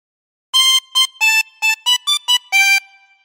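A phrase of Pop Goes the Weasel on a chromatic harmonica, played solo as eight clean, separate reedy notes in a bouncy rhythm, the last one held a little longer.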